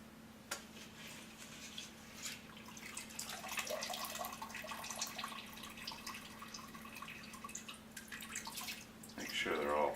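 Water draining and dripping from sprouting peas and lentils in stainless steel bowls, soft trickling with light clinks and scraping, faint and close, with a brief voice near the end.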